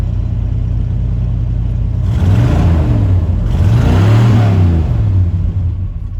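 A 1977 Suburban's 6.6 V8 running steadily up close, with its engine note swelling twice into brief revs before settling back to a loud, even rumble.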